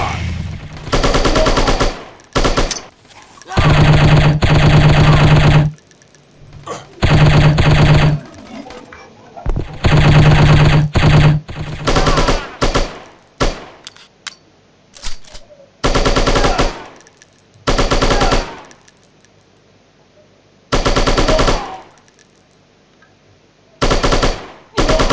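Machine gun fire in the shooting video game Striker, chapter 3, comes as loud blocky bursts of rapid automatic shots separated by short gaps, repeating across the stretch, with a voice talking in the quieter pauses.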